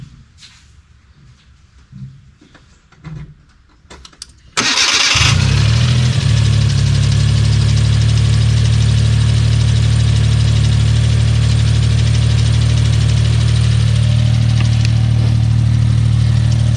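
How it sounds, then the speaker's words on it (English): A Suzuki Cappuccino's small engine cranks and catches after a few quiet seconds of shuffling in a garage, then settles into a loud, steady idle that holds close up to the end. "let's go ahead and fire this car up"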